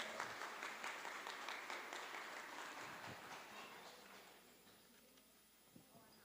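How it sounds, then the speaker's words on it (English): Audience at a high school fine arts awards ceremony applauding students, a steady patter of clapping heard from some distance that gradually thins and fades toward the end. "one more round of applause for these students that were mentioned"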